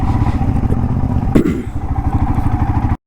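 A motorcycle engine runs steadily on a mountain road, its close, pulsing thrum loud and continuous with a single knock partway through before it cuts off abruptly.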